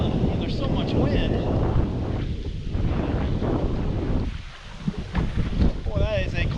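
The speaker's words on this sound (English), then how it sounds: "that is a cold wind blowing" Cold gusty wind buffets the microphone out on Lake Lanier in November, a steady rumbling roar with surging gusts, while a person talks over it.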